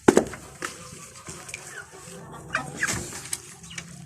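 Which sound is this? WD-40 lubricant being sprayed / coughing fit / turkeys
turkeys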